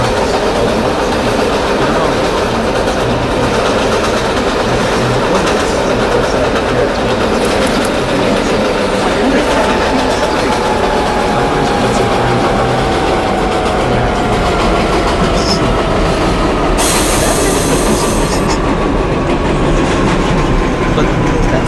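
A New York subway train on the 4 Line between Utica Avenue and Woodlawn, rendered in the OpenBVE train simulator, rumbles steadily with rail clatter and a rising motor whine, loud and continuous throughout.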